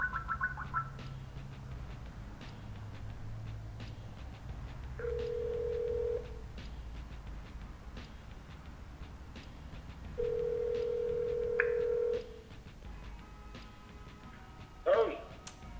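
A telephone call is placed: dial tones sound first, followed by two long electronic ringback tones with a pause between them, heard clearly over faint line hiss.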